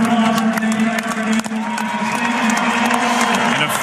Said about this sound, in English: And a final round of applause from the Pitt faithful.